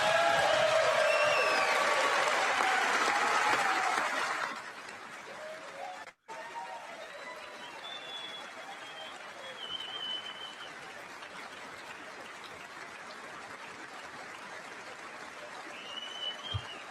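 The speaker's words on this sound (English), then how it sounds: "The Democrats clapping." A crowd applauds at a State of the Union address, a loud sustained ovation for the first four seconds that then drops to faint scattered claps and room noise.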